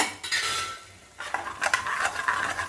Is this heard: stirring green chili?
yes